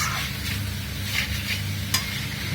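Mangalorean pork curry with masala cooks in a pan, a loud continuous sizzle and frying hiss with stirring and one brief utensil clink, close and alone.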